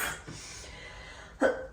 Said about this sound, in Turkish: Ay öksürükten de bir kurtulamadım ya.